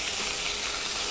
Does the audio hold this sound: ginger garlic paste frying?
yes